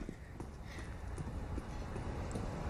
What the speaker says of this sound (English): He can hear these footsteps